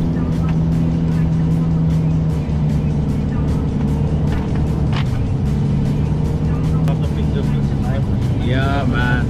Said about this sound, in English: So we are now driving on your off-road, the sand dunes of this golden desert of Dubai.